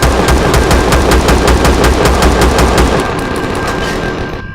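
A minigun fires in Empyrion: Galactic Survival, a loud, close, rapid even stream of shots that holds steady for about three seconds, then fades as the firing winds down.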